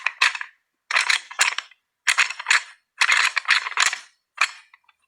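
A deer hunting rattle bag is rubbed and shaken to imitate antlers clashing, giving sharp clattering bursts in six close, loud clusters separated by brief silences.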